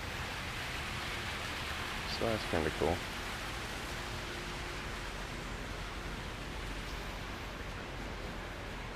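A small waterfall at a resort and casino in Primm, Nevada, gives off a steady, even hiss of falling water throughout, with someone briefly talking over it partway through.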